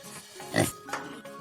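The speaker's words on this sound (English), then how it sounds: "This is a pig." A farm pig gives one loud grunting oink near the middle, followed by a softer grunt, close up with little else around.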